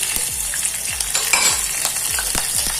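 Groundnuts browning in a pan for poha, sizzling loudly and close, with a quick rhythm of spoon scrapes and knocks against the pan and no speech.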